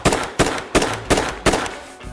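Five sharp gunshots ring out at an even pace, each a loud broadband crack with a short tail, fired from a custom sporting rifle after a jam from frozen magazine rounds. No one speaks.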